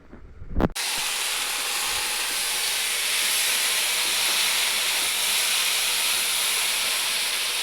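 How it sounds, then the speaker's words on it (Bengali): Ivy gourd fries in oil with garlic, nigella seeds and green chili. A sudden loud burst gives way to a steady, bright, close sizzling hiss that continues without letup. "তেলের মধ্যে আর রসুন ফোড়ন দিয়ে কুঁদরিটা জাস্ট কাঁচা লঙ্কা দিয়ে ভাজছি"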